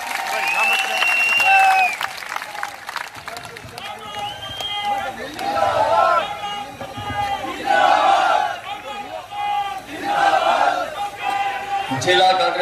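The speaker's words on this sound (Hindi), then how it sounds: "तालियों की गिड़गिड़ाहट।" An audience at a Congress party political rally in Ladnun breaks into waves of applause and cheering, the clapping swelling and fading several times while a voice carries over the crowd.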